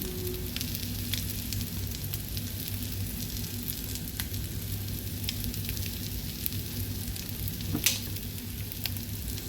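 Eggs and sliced onions frying in a pan, a steady close sizzle with small crackles and pops that runs unbroken, with no one talking over it.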